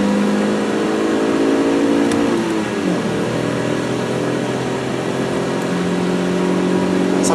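A VW Golf GTI VR6 accelerates on the Knockhill race track, its engine note rising steadily and droning at high revs, loud and close throughout with a brief dip as the pitch shifts.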